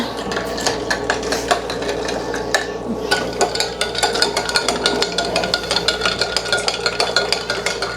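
A spoon clinks and scrapes rhythmically against the inside of a cup while a drink is stirred, with repeated close metallic taps over a constant low background hum.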